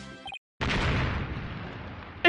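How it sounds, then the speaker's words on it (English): A loud, sustained explosion roars out of silence in the Apollo Justice: Ace Attorney game, a sudden blast followed by a long rumbling wash of debris noise that slowly fades, with a brief tonal cue before and after. "Explosion? What was that? It came from the hallway!"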